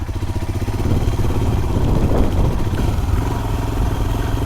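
Royal Enfield Himalayan motorcycle rides slowly along a technical dirt trail, its engine a steady close-up thump with rattling clatter from the bike over rough ground.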